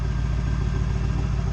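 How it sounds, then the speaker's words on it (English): A Ford 7.3 Powerstroke diesel truck engine runs at a steady high idle, a dense, even low rumble with a constant clattery drone and no pauses. "Going into high idle."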